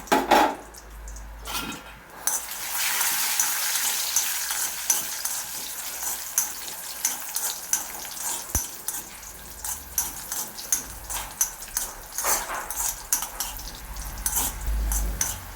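Cashews and raisins frying in a pan for coconut-milk aval payasam, a steady crackling sizzle with intermittent stirring scrapes and clinks of a spoon against the pan throughout.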